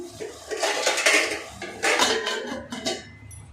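A metal pot lid is set down on a pot of cabbage curry, giving a few clattering, scraping metallic knocks close by, with short bursts of clanking spread across the moment.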